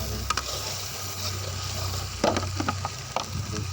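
Brain masala (maghaz) sizzling and frying in a pan with garlic and ginger, a steady soft crackle with a few brief stirring clatters near the end, no talking.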